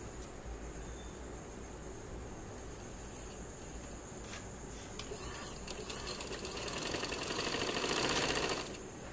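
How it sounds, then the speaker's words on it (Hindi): A sewing machine stitches along the edge of a lace border on shirt fabric, giving a continuous, fast mechanical whir that is faint but steady and swells slightly near the end. "फिर हम ऐसे घुमा के इसकी दूसरी साइड पे भी बिल्कुल किनारे किनारे पे सिलाई लगा देंगे।"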